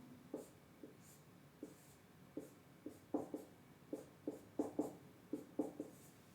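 Marker or chalk tapping and scratching on a board while a chemistry mechanism is drawn, a series of quiet, short, irregular strokes with no talk.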